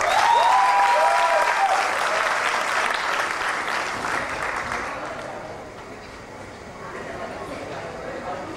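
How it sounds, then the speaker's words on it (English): An audience at an animation college award ceremony breaks into loud, sustained applause, with a voice speaking over the start of it before the clapping slowly tapers. "A big round of applause."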